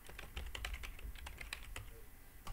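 Rapid, steady typing on a computer keyboard as a file name is entered, a dense stream of quiet, close key clicks with no talking.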